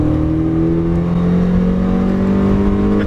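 A stock 1.6L Mazda Miata accelerating hard to overtake a pickup truck, its engine note rising in a steady, loud drone heard from inside the car, with no talk.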